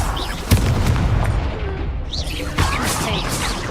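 In Hogwarts Legacy, an Incendio fire spell goes off as a loud booming burst with a roaring, crackling rush of flame. A second surge follows, and a voice speaks over the effects.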